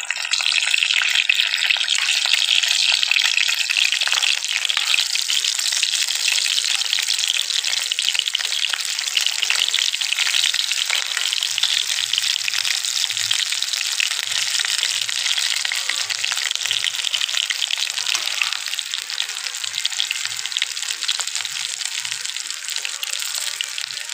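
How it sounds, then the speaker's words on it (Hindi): Green chilies fry in hot oil in a pan for an aloo-stuffed hari mirch dish, giving a steady, loud, close sizzle that runs without a break and eases slightly toward the end, with a few soft low knocks and no talking. "हम सारी मिर्च को रखेंगे और अपने खाने में एक साइड से फ्राई होने देंगे।"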